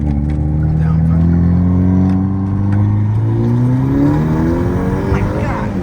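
A car fitted with a catless downpipe exhaust accelerating hard, its loud droning engine note climbing through the revs in a continuous pull from close by.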